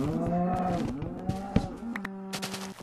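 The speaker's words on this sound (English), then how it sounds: "And there's a cow around my lawn." A cow in the Minecraft video game moos in a long, low, loud call, followed by clicks and a second fainter moo amid game sounds, with no talk.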